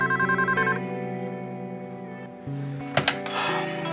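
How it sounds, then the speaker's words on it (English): A telephone rings with a rapid electronic trill that stops after under a second, followed by a low sustained musical tone and a couple of sharp clunks, as if a handset is picked up. "I gotta answer the phone."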